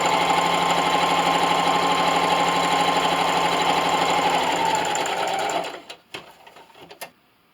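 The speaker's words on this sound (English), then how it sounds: "line the pin mark up, and sew" A sewing machine stitches 5-inch quilt block sets for a mirrored heart table runner, a steady close whirring run for about five and a half seconds that stops abruptly, followed by a few faint handling clicks.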